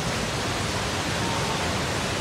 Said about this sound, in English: There's a lot of water running there.